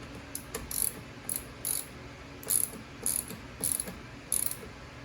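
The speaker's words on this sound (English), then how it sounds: "Tighten this 10mm up." A ratchet tightens a 10mm nut during a battery change on a 2016 Chevrolet Suburban, producing about a dozen quick, crisp clicking bursts in an uneven rhythm, close and fairly quiet.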